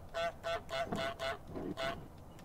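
The cartoon goose in Untitled Goose Game gives five or six loud, nasal honks in quick rhythmic succession, close and clear with no speech over them.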